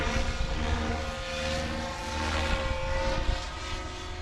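Goblin 500 RC helicopter in flight, a steady loud whine of rotor and motor holding throughout with slight swells in level, no talk.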